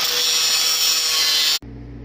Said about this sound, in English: Grind other side.